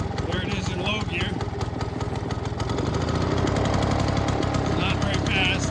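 A 1947 Frazer rototiller engine runs in low gear with a loud, close, rapid chugging putter that holds steady throughout, while someone talks over it.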